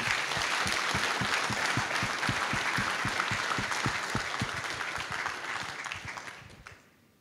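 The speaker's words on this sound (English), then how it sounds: "Let's give us applause." A conference audience claps in a dense, even round of applause, sustained and fairly close, then tapers off and fades to silence at the end.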